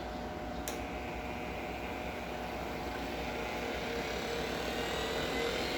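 Skil 7471 random orbital sander fitted with 60 grit sandpaper, running steadily and continuously at close range with a smooth, even whir and no talking.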